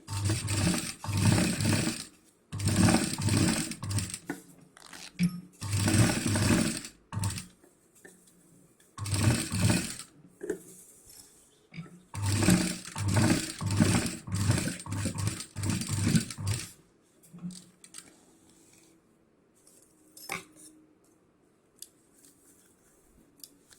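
Sewing machine stitching fabric for a large travel bag, running in several loud, rapid bursts of a few seconds each with short pauses between, then falling quiet near the end.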